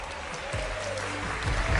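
Studio audience clapping on a Pakistani Ramzan game show, a continuous, fairly loud patter of applause with a voice speaking over it.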